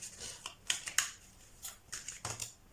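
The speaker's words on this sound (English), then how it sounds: "If you hear this sound, I'm shuffling cards because it helps me channel." A deck of cards is shuffled by hand, giving short crisp riffling and flicking bursts in an irregular rhythm, close and fairly quiet.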